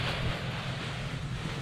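A garden hose on its shower setting sprays water over polymeric sand on a patio, a continuous loud hiss of fine spray without pause, with no voices.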